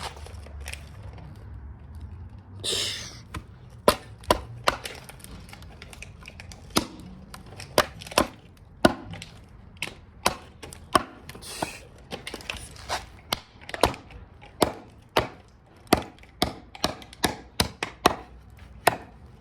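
A cheap $20 pot-metal Bowie knife chopping wood, with sharp, close woody chops in an uneven but steady rhythm, about two dozen strikes, with no voices.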